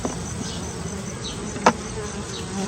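Steady honeybee buzzing at a hive fills the air, a low continuous hum with a brief louder buzz as one bee passes close to the microphone.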